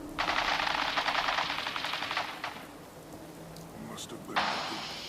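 Automatic gunfire in the Fallout 4 video game, two long rapid bursts of rattling shots separated by a quieter gap, loud and close, with faint voices underneath.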